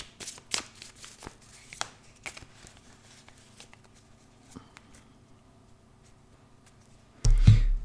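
Someone cuts and shuffles a deck of cards close by, making soft, irregular papery flicks and riffles that fade toward the end, followed by a brief louder thump.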